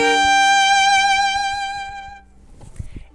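A three-note chord bowed on a string instrument at a quicker bow speed, a bright sustained tone that fades out after about two seconds, followed by a few soft knocks and rustles.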